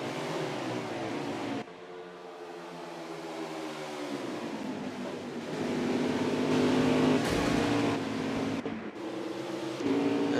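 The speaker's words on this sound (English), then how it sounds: "A lot of cars out on track tonight for practice" Several race cars run laps on track during an evening practice session, engine drones rising and falling as they accelerate and pass, a steady moderately loud roar with no voices.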